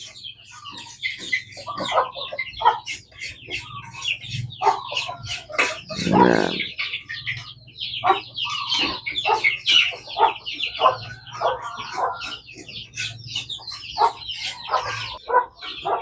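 Several crossbreed hens cluck and squawk nearby in busy, overlapping bursts while being fed leftover rice, with a brief word spoken over them.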